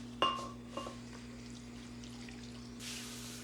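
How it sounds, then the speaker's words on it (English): Water is poured into a blender jug, opening with a light knock against the container and followed by a quiet, thin pouring and trickling sound in a calm kitchen. "while I put this water in the blender"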